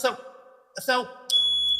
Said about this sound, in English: that was the fire alarm.